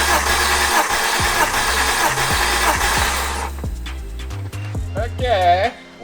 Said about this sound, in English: Tester goes into the place of the spark plug and we crank the engine.